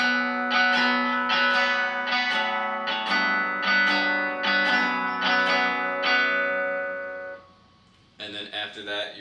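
Electric guitar through effects and distortion plays a repeating riff, with a steady rhythm of plucked accents for about seven seconds before the notes fade, followed by a brief new strum near the end.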